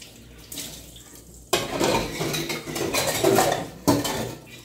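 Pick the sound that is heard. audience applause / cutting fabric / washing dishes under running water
washing dishes under running water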